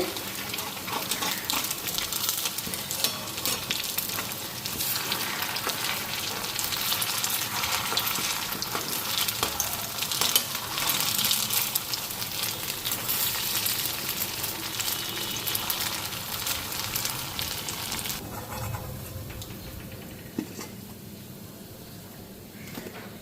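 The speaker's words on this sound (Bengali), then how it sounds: "এইদিকে বড়াগুলি দেখো ভাজা হয়ে গেছে" Lentil fritters (bora) deep frying in oil, a dense, loud, continuous bubbling sizzle heard close up for most of the stretch, easing to a quieter hiss near the end, with no talking.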